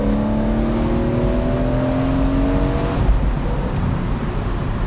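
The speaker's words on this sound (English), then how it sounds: "but just a bit more CSL style intake howl" A BMW E46 M3 convertible's S54 engine fitted with an Eventuri intake howls as it pulls on a UK road, a steady, close drone whose pitch climbs gradually before settling into a rougher rumble.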